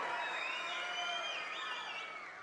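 A large outdoor public meeting crowd in Kuppam roars and cheers with high shouts and whistles, a continuous distant wash of voices that stays loud throughout.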